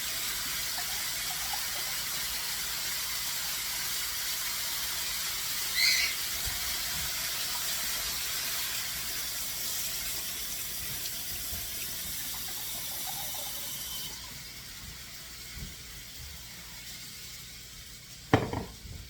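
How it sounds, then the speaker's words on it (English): Cold water runs steadily from a tap into a cooking pot, a continuous splashing gush that quiets near the end, followed by a brief clunk. "add 3 cups of cold water to the pot"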